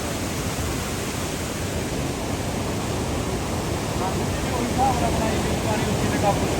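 Water from a canal pours through opened sluice gates near the Sutlej river, producing a heavy, continuous rushing roar, loud and close, steady throughout with slight swells toward the end.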